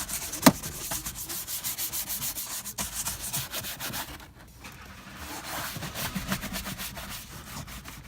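A detail brush scrubs carpet inside a car in a steady, continuous rasping rhythm of quick strokes, close and fairly loud, with a brief lull partway through before the scrubbing resumes.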